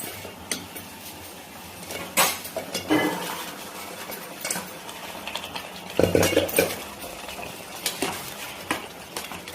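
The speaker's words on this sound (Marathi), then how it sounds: "छान मिक्स करायचं" Cooked ingredients are mixed in a metal pot with a spoon, giving intermittent clinks and scrapes against the pot in irregular bursts, close and fairly loud, with no talking.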